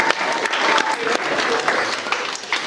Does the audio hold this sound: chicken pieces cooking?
no